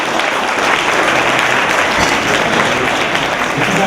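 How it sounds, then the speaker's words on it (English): An audience at a breast cancer awareness event gives a steady, loud round of applause, a dense wash of clapping that holds evenly from start to finish. "give them a round of applause"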